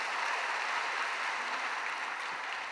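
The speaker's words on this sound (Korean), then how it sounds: "은혜의 말씀 전해주신 우리 목사님께 감사의 박수 드리겠습니다" A church congregation applauds after a dawn worship sermon, a dense, continuous patter of many hands clapping at moderate volume, heard alone and fading slightly toward the end.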